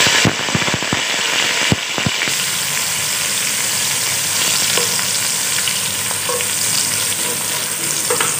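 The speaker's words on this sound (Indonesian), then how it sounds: "Dan goreng lama-lama ya." Cut dried chilies fry in hot oil in a pan, making a loud, steady crackling sizzle with a few sharp pops near the start.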